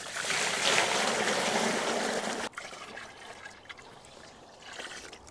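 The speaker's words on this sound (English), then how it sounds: "a cold day to be sifting around with cold water, washing plants' roots" Cold water running over the soil-caked root ball of an aubergine plant being overwintered, a loud steady gush that stops abruptly, then quieter trickles and dribbles with faint splashes.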